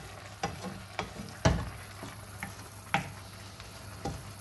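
Chicken risotto cooks in a pan, a soft steady sizzle and bubbling broken by a few sharp clicks and taps of a spoon against the pan, close and fairly quiet with no talking.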